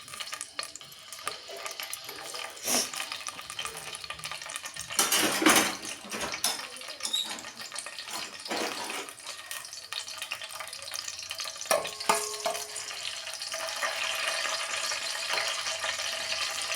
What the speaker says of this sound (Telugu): ముందైతే నూనె పోసుకున్నాను. పచ్చిమిరపకాయలు,